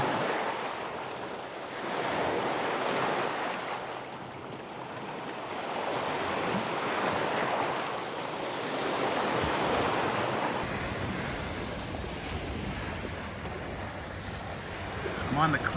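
Steady surf rolls in along the Lake Michigan shore below the cliffs at night, a continuous wash of breaking waves swelling and easing, with wind buffeting the microphone and no one speaking.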